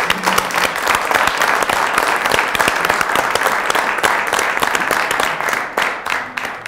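Audience at a French television debate applauding with a dense burst of clapping, close and lively, holding steady before thinning toward the end.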